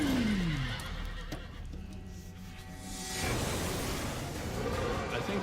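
Ruin, the oversized warhorse in the video game Darksiders, lets out a loud neigh that falls in pitch, followed by snorting and heavy movement against a rumbling, dramatic backdrop.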